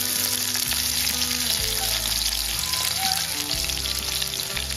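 Chopped onion hits hot oil in a wok and fries with a loud, steady, dense sizzle and crackle that runs the whole time, close and continuous with no talking.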